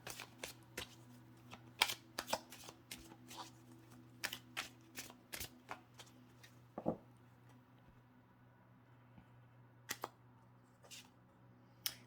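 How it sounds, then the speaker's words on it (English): Tarot cards are shuffled and pulled during a reading, soft close riffles and slaps in irregular bursts over a low steady hum, thinning out toward the end with only occasional card taps. "So let's pull some more cards and see what else we've got here for you."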